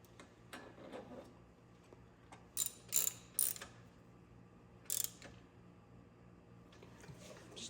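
Short bursts of ratchet clicking while tightening the shock mount on a Yamaha PW50 fitted with a lowering kit, several quick close ratcheting runs separated by quieter handling sounds.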